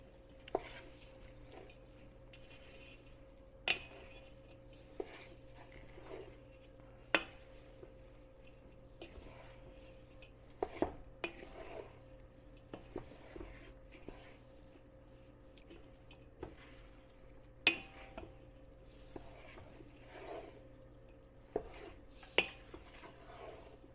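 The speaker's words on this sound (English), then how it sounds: "Now we just mix it together." Food being mixed together in a bowl during meal prep: scattered close clinks and knocks of a utensil against the bowl, with soft rubbing and scraping in between, alone and fairly quiet.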